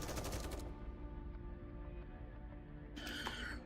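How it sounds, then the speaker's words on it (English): Bursts of rapid gunfire from the video game NIKKE crackle at the start and again near the end, with a lower rumbling battle bed sustained between them. "Dobin's troops fall to the ground in a hail of gunfire."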